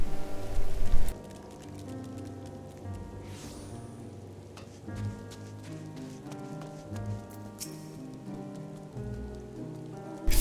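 Steady rain in Garlemald from the video game Final Fantasy XIV patters continuously on surfaces, a dense hiss layered with soft background music, with a louder swell at the start.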